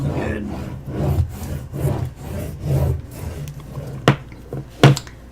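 Firm rhythmic rubbing strokes of a burnishing tool on a craft piece, about five broad passes close up, followed by two sharp taps near the end.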